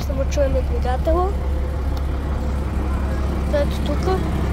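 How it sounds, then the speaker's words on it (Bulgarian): A retro Chavdar 130 bus engine runs with a steady low rumble on city route 200 while people talk nearby over it. "Сега ще му чуем двигателя."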